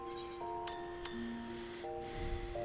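A chiming crystal bell in Final Fantasy XIV gives a few clear, sustained ringing tones that overlap and decay slowly over soft game ambience, with no one talking.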